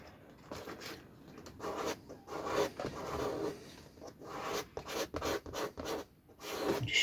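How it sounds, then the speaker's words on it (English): Flat paint scraper dragged over soft, decaying wood on a fishing seat box, a series of short, rough scraping strokes, close and fairly quiet, uneven in rhythm. "Just scrape all that excess crap out of the way"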